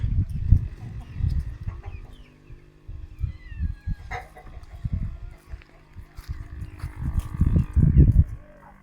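A rooster crows and clucks several times amid other chicken sounds, with a person talking nearby at moments.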